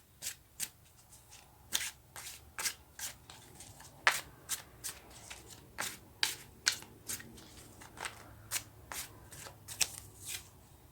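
Tarot cards are shuffled by hand in quick riffling bursts, a brisk irregular rhythm of crisp, close flutters repeating over several seconds against a quiet room.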